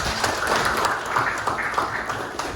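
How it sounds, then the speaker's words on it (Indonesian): A classroom group claps for a student after a school counseling session, a steady dense patter of hands lasting throughout, fairly close, with faint voices mixed in. "Kasih tepuk tangan dong."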